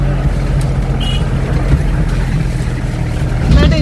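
A car engine drones steadily up close as the vehicle drives along a rough road toward Paleshwar waterfall near Kolhapur, a loud continuous rumble with a faint voice near the end.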